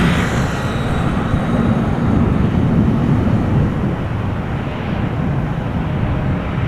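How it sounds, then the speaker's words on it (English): A Saudi Boeing 787 airliner arriving at Amsterdam Schiphol Airport, a loud sustained jet roar that stays steady across the whole stretch and eases only slightly near the end. "787 for arrival, nice"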